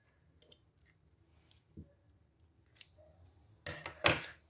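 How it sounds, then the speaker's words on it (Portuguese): Scissors snip through crochet yarn for a synthetic-yarn backpack: a few faint clicks, then two sharp, close cutting snips near the end, with no talking. "Então, eu vou cortar o fio."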